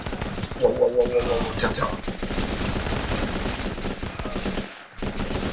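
Rapid gunfire and bursts from the tactical shooter video game Running With Rifles, loud and continuous through the whole stretch, with someone talking briefly over the shooting.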